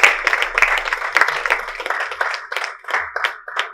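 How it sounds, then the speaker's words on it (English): A small group at a boxing press conference claps briefly, the applause close and uneven, fading into scattered individual claps. "We give a round of applause"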